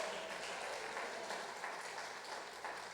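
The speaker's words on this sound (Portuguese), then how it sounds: "Você pode aplaudir o Senhor por isso?" Church congregation applauding during a service, a faint, steady wash of many hands clapping at a distance with no voices on top.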